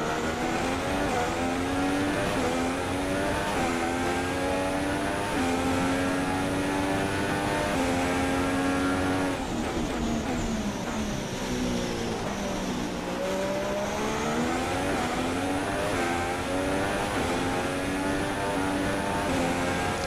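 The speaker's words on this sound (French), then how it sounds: "Et Massa qui euh, pose son attaque avec le DRS et qui passe sans problème." Formula 1 race car engines in the F1 2016 video game at the Shanghai circuit: a continuous, loud, high-pitched engine whine whose pitch sweeps up and down through gear changes, with several cars layered together.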